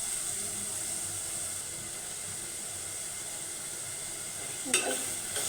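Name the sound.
stirring taro and Malabar spinach stems in frying spices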